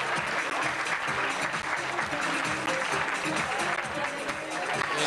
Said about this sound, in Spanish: Con esta música aplaudimos entonces también este lindo encuentro